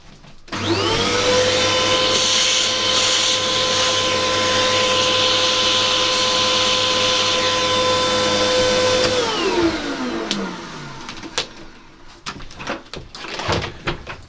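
Up close, a vacuum cleaner runs loud and steady for about nine seconds, picking up sawdust on an N gauge model railway layout, then winds down with a falling whine, followed by scattered knocks and handling noises.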